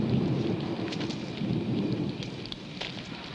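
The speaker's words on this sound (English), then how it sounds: "Stop worrying about the thunder and the rain." Steady rain pouring outside a cave with rolling thunder rumbling underneath, loud and continuous with no voices.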